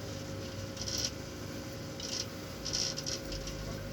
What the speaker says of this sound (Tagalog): Ulan na. Ang ulan na.